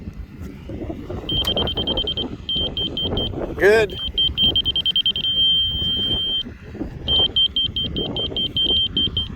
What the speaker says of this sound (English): I just want to hear the beep. That means I'm in the ballpark.